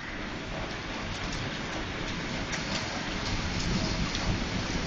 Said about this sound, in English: Still got hail.